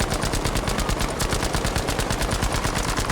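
Artillery fire in a shooter video game, a rapid, even rhythm of loud repeated shots that stays dense and continuous from start to finish with no voices.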